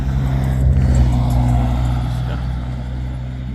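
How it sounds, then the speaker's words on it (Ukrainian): A three-wheeled farm vehicle on a blueberry plantation pulls away, its engine a loud steady rumble that slowly fades as it moves off. "трьохколісна техніка поїхала"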